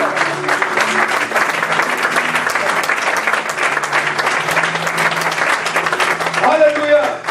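A church congregation applauds with steady, loud clapping that keeps going for about seven seconds, with voices and cheering mixed in and a tone rising near the end.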